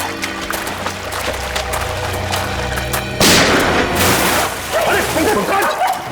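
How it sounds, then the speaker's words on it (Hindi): Gunfire in an Indian police drama scene, with sharp bursts of shots and a loud blast midway over background music and tense action noise, with voices nearby. "एसीपी चित्रोले गोली चला रहे।"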